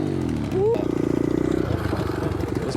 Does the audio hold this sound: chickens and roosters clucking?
no